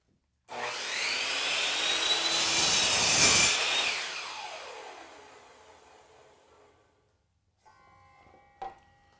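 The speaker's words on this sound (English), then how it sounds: "lower the blade to align it on the waste side of that mark, and then I'll make a compound cut" Skil miter saw making a compound cut in crown molding: the motor spins up loudly, the blade bites and whines through the wood, then winds down over a few seconds, followed by a brief clack.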